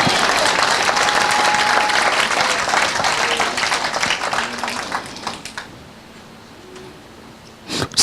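A church congregation breaks into loud, dense applause that fades away after several seconds, followed by quiet and a short final burst of clapping.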